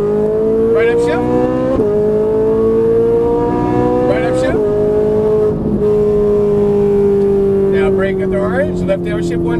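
A Ferrari 458 Italia engine roars loud and close on the Las Vegas Raceway, pulling through rising revs with brief dips at each gear change, steady and continuous throughout.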